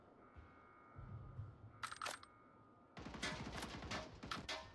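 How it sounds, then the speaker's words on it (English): Bursts of gunfire in a competitive shooter match, a short sharp volley followed by a denser, sustained stretch of rapid shots, fairly loud against a quiet background. "Gunshots coming out from Oaks"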